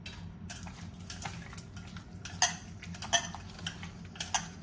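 Spoon clinks and scrapes against a bowl as chicken pieces are mixed with lemon juice and masala marinade, a steady run of small metallic taps with a few sharper knocks, close and without talk.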